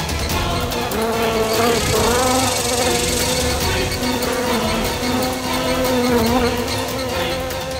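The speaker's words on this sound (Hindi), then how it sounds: "मक्खी" Housefly buzzing loudly and steadily at close range, a dense droning whine that wavers in pitch as it moves, continuous for several seconds with no talk over it.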